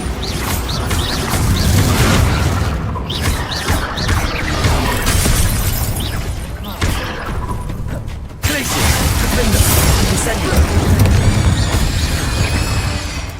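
A Bombarda spell explosion in Hogwarts Legacy: loud, dense blasts with shattering and crashing debris, a brief drop near the middle, then another rumbling burst with clattering fragments, all close and sustained.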